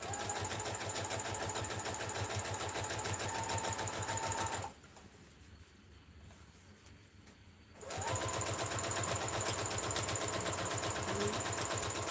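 A sewing machine stitches a wired headband wrap in a steady, rapid mechanical whir, pausing for about three seconds midway before running again, alone and close.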